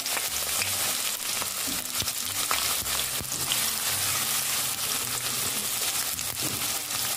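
Sliced onions added to about half a cup of oil heated in a pan for a chicken and potato curry, frying with a loud, steady sizzle and crackle, plus occasional stirring scrapes, no voices.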